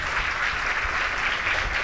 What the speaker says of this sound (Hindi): अब आप लोग एक बार फिर से जोरदार ताली बजा दो